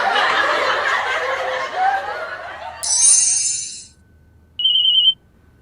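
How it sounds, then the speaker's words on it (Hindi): A mobile phone ringtone sounds in two bright electronic bursts, the first longer and the second short, following a stretch of laughter and chatter in a Hindi comedy scene. "अरे चिड्डो का फोन"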